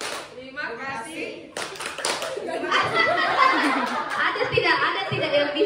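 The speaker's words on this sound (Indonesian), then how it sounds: "Tepuk tangan dulu untuk kita semua." A group at a school gathering breaks into clapping, starting sparse and thickening into a busy, rhythmic patter, with laughter and chatter mixed underneath.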